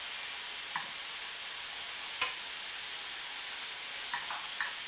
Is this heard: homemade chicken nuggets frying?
yes